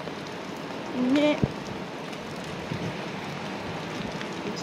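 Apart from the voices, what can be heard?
rain falling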